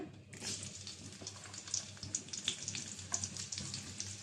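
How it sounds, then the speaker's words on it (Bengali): Chopped onions sizzle in hot oil in a wok, a loud, steady crackling hiss that starts abruptly and continues without pause, with no voices. "এই কড়াইটায় আমি রান্না বসাবো আর একটু তেল দিয়ে দিলাম পেঁয়াজ দিয়ে দিলাম"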